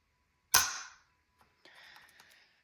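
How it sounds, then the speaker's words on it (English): A dry-fire trigger pull on an unloaded Winchester Wildcat .22 LR rifle gives one sharp, close metallic click, followed after a pause by a faint softer mechanical rattle. "Here is that trigger pull."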